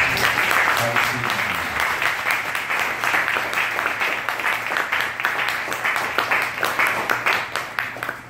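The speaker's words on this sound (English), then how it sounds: "Give yourselves a big round of applause." An elementary school leadership summit audience applauds loudly and steadily, a dense wash of many hands clapping near and continuous for the whole stretch, swelling slightly at times before easing off.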